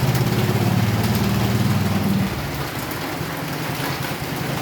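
Steady rain falls with a dense, even hiss, while a low engine-like drone runs beneath it for the first half and then fades.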